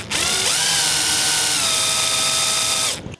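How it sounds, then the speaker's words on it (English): Power drill boring into a 1976 Redline American Tipper Hot Wheels die-cast car, a loud continuous whine that steps up in pitch after half a second, holds, then cuts off. "Let's start drilling."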